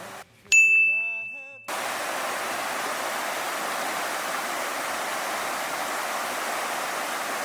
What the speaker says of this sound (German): Wir laufen vorbei an der Soča-Quelle, einem kristallklaren und türkisblauen Fluss